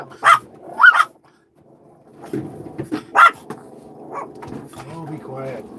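A dog barks several sharp times close by, with growly, whimpering sounds and a person talking softly between the barks.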